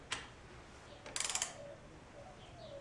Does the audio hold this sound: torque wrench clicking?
yes